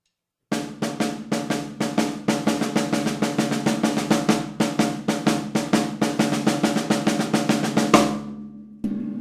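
Drum kit playing a shuffled single-stroke roll combined with a rolling eighth-note triplet rudiment (RRL), a steady rapid stream of close, loud strokes lasting about eight seconds before stopping with a ringing tail and one final hit.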